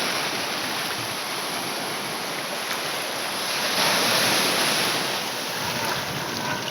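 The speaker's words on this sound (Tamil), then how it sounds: "ஏ தண்ணி வருது வருது வருது வருது வருது வருது." Sea waves wash onto a sandy beach on a beach outing, a continuous broad surf wash with wind rushing across the microphone and a swell that rises midway before easing back.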